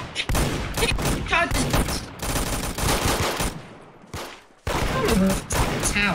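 Rapid bursts of automatic gunfire from a Roblox shooter game played like CS:GO, dense and loud in near-continuous volleys with a short lull before the firing resumes.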